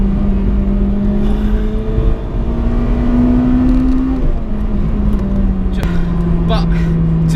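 A Honda Integra DC5 Type R engine revs hard into VTEC and climbs in pitch under load, shifting up and pulling again, loud and close with a steady whirring drone.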